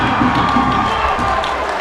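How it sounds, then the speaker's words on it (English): A high school basketball crowd from St. Paul, seated behind the bench at a game at Kennedy, roars with continuous loud cheering and shouting throughout. "the St. Paul crowd behind the bench going wild on that one"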